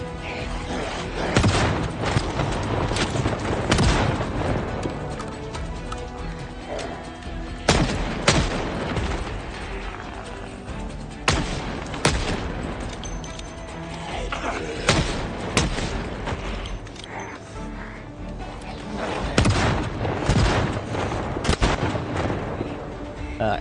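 Repeated shotgun blasts in the zombie survival game Project Zomboid, loud booming shots spaced irregularly every few seconds over a continuous background of game noise.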